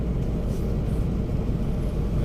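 A car cruising along a road toward Kentville, a steady close rumble of engine and tyre noise that holds at an even level throughout with no breaks.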